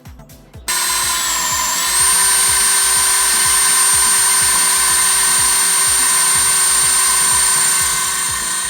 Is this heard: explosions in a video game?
no